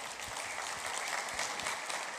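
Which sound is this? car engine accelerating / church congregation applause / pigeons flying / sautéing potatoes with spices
church congregation applause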